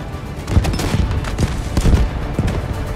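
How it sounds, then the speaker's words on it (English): An artillery barrage in the military shooter Delta Force: a continuous rumbling roll of distant booms and rapid blasts, thick and steady for a few seconds with no talk. "Artillery ready for barrage."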